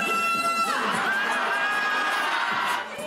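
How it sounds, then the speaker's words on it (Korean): Crowd at a street rally in front of the National Assembly calling for Yoon Suk Yeol's resignation, cheering and chanting loudly along to K-pop music, a dense continuous roar of many voices close by. "시민들은 노래에 맞춰 환호성과 구호를 외칩니다."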